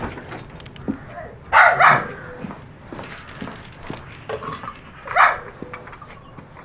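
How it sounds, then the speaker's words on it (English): Dogs bark in two short bursts, a near cluster of yaps and then a single louder bark, over a busy indoor room tone. "The dogs need walking."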